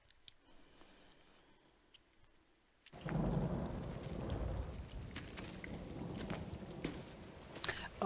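A thunderstorm in a Game of Thrones episode (Season 3, Episode 9, 'The Rains of Castamere'): after a few quiet seconds, heavy rain and deep rumbling thunder surge in and continue loudly, with a few sharper cracks late on.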